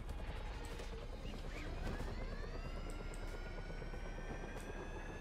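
A helicopter in the video game GTA 5 drones steadily throughout, its rotor and engine roar loud and continuous, with faint higher whining tones drifting over it.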